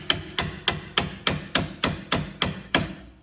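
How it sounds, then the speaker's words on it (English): Steel hammer strikes a chisel wedged into a BMW X5 strut assembly piece, about nine sharp metallic blows in an even, steady rhythm, close and loud with brief ringing between hits and no talking. "I'm gonna go back to hammering it"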